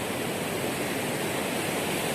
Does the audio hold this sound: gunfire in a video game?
no